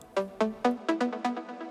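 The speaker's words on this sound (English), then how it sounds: "The most important lead is a saw pluck I made in Serum." A saw pluck lead synth made in Serum for a progressive house track plays a quick run of about eight short, bright plucked notes, each sharp at the start and decaying fast, clean and upfront with nothing behind it.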